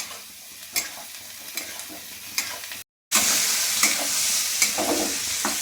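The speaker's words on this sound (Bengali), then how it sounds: "এবার পটলটাও ভাজা হয়ে যাবে আর আমার মশলাগুলোও ভাজা ভাজা হয়ে যাবে" Pointed gourd fries in a pan with onion, spices and prawns, giving a close, continuous sizzle with stirring scrapes; after a brief silent break it returns louder.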